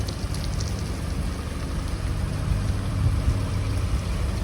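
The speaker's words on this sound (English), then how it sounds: "the weather's against me at the moment, unfortunately. It's coming down in buckets." Heavy rain pours down steadily outdoors across from a building being demolished on a town street, a dense continuous hiss with a low rumble underneath and no voices.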